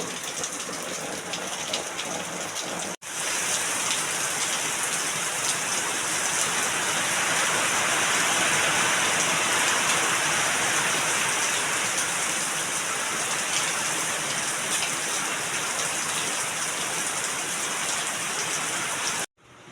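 Heavy rain pours down in a loud, dense, continuous hiss that runs almost unbroken for the whole stretch, briefly cutting out near the start.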